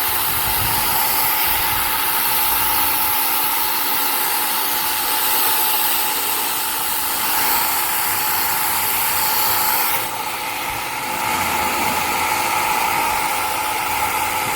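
A cordless Ontel Turbo Jet HydroX5 Pro pressure washer sprays a vehicle with a steady, loud hissing rush, and the flow briefly shifts partway through.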